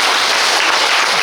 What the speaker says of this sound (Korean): 그러면 박수 한번 치면 하나 더